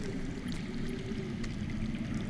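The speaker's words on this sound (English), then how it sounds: "That's water. I hear water. From underground." Underground water flows and trickles in a dark cave setting in a Game of Thrones video game, a faint, steady low gurgle with a few soft drips over it.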